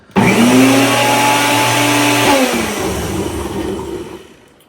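A loud 1000W electric food blender whirs steadily, its motor pitch shifting partway through before the noise tapers off.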